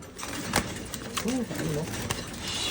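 A racing pigeon coos a few low, soft notes in a loft, briefly heard among people talking nearby.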